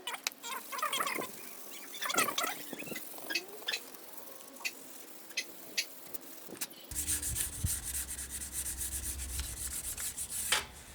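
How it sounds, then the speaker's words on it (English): Aluminium hand-sanded with 800 and then 1200 grit sandpaper gives a steady, fine rubbing scrape. It runs as irregular strokes at first, then turns into a denser, continuous swish that carries on to the end, close up with no talk. "A little bit of 800 grit sandpaper and a little bit of 1200 grit sandpaper, just to see if I could make the aluminium sort of more polished."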